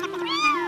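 A cat's meow as a sound effect in a read-aloud children's story: one short, clear, rising-then-falling cry, heard alone.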